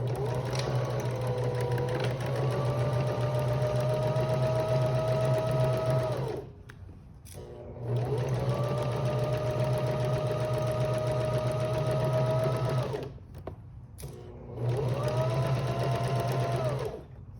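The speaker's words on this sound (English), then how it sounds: "we are sewing at 5/8 of an inch all the way around, back stitching at the beginning and the end" A sewing machine stitches a 5/8-inch seam around the outer fabric of a zipper pouch, back stitching at the start and end. Its steady, close motor hum runs in three long bursts separated by brief pauses.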